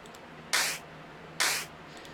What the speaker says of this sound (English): That's a really standard clap.